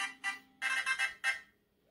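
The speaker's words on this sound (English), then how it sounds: "Yeah, I'm ignoring that phone." Telephone ringing in a home, a few electronic ring bursts with short gaps between them, fairly clear and close, with no talking over it.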